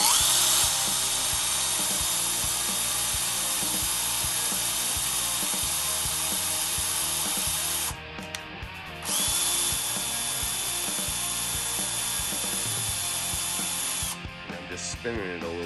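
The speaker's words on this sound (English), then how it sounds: "I got it hooked up to the drill." A power drill spins parts for a WPL C-14 RC truck, giving a loud sustained whine that runs nearly continuously. It stops briefly twice and then resumes.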